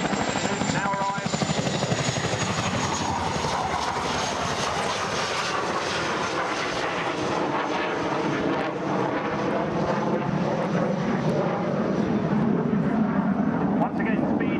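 A Chinook helicopter at the Waddington International Air Show 2008 thunders steadily with loud rotor throb and engine whine, near and continuous throughout, with a commentator talking over it.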